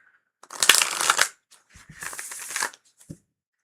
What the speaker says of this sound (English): That was a beautiful shuffle.